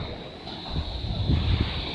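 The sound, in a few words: rough sea waves and wind during a storm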